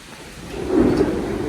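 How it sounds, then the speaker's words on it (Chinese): Thunder rumbles low and swells to a loud peak midway during a Beijing hailstorm with heavy rain, the steady hiss of downpour running throughout. "哇，打雷了！"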